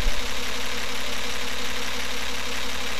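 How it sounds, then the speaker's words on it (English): A camshaft-less test engine, just switched off, spins down on its own momentum: a steady, loud mechanical hum with low rumble that holds level for three seconds without a distinct stop. "Let's shut it down once again so you can see how the engine coasts to a stop."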